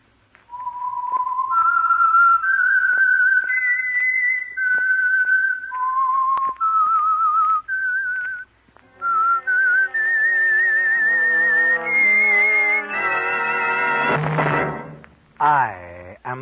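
The whistled signature tune of the old-time radio program The Whistler: short rising and falling phrases, loud and clear, ending in swelling orchestral chords and a final sliding whistle.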